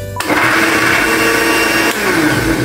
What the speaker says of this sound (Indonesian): Di blender juga tapi dicampur air nanti.